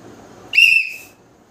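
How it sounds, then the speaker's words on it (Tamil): A person at home lets out a single short, sharp, loud whistle up close as a prank on a mother, then quiet follows. "விசில் அடிச்சிட்டு இருக்க"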